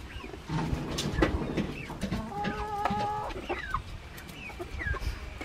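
Backyard hens cluck and squawk in agitated bursts as a rooster rushes in and chases them, with sharp, high calls overlapping at close range and no one speaking.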